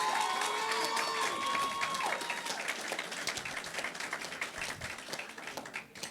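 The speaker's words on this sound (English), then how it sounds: "Please give a round of applause for her." Wedding guests applaud the bride in a sustained burst of crowd clapping that rises as a brief tone fades, then continues steadily with scattered loud claps, a few faint voices underneath.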